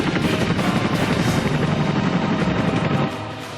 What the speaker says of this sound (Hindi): वायुसेना के बेड़े की शान चिनूक हेलीकॉप्टर।